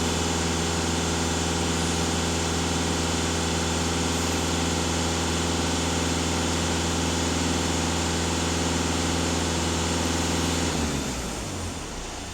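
A VW Touran 2.0 TDI diesel engine is held at full throttle with a loud, constant droning roar, then the revs fall away sharply in the last couple of seconds.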